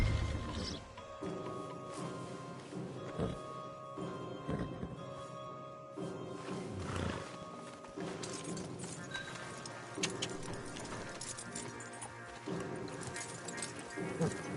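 Horses' hooves clip-clop steadily in Red Dead Redemption 2, a rhythmic plodding of stallions being led along, mixed with jangling tack and ambient game music, with voices speaking over it.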